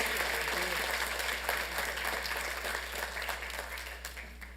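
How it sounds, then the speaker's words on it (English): Sustained applause from the audience at a city council meeting, a dense wash of clapping that holds steady and slowly tapers toward the end, over a low steady hum. "So let's give them a round of applause."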